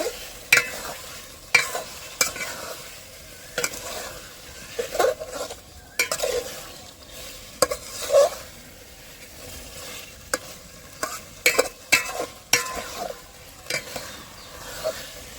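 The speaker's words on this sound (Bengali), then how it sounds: "মাংসটা দিয়ে ভালো করে নাড়াচাড়া দিয়ে নেবে" Chicken pieces are stirred in a cooking pot with a spoon, giving irregular scraping knocks and clatters over a low sizzle, loud and close, with no talk.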